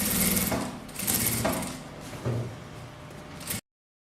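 Sewing machine stitching binding onto a patchwork fabric rag rug, a close, rapid mechanical whirring and clatter in several bursts with brief slowdowns, stopping abruptly.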